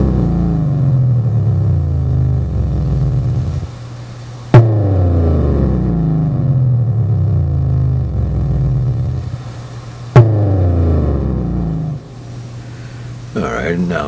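A Korg Monotron monophonic ribbon synthesizer in cutoff mode plays buzzy tones that sweep downward, restarting abruptly twice. It sounds close and steady, ending with a short squiggly flourish.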